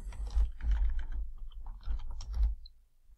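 Computer keyboard being typed on to enter a name for a new stock watchlist, a quick run of close key clicks in two short bursts with a brief pause between, no talking.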